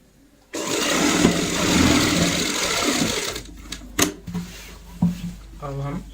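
A sewing machine stitches fabric for a bed sheet made from leftover cloth, running as a steady, loud whir for about three seconds before stopping, followed by clicks and a voice speaking nearby.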